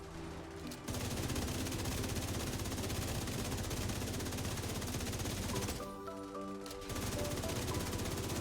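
Video game gunfire in a Masters-difficulty climax mission: rapid, continuous automatic fire crackling densely, broken by a short pause near the start and another about two-thirds through, fairly faint overall.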